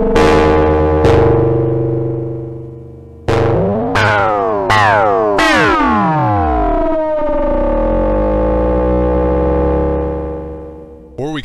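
Synthesizer tones with warbling, sweeping harmonics that bend and shift; several notes start sharply and ring out in a sustained, metallic buzz.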